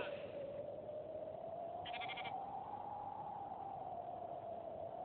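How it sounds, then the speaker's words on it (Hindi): Sheep and goats on a farm field give a brief cluster of bleats near the middle, over a steady noisy background hum. "तुम अपनी ये भेड़ बकरियां संभाल के रखो"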